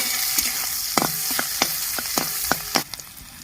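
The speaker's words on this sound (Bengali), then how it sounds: "পেঁয়াজটা হালকা লাল করে ভেজে নেব" Chopped onions with black cumin seeds sizzle in oil left over from frying fish, a steady frying hiss broken by repeated sharp scrapes and knocks of a spatula stirring the pan.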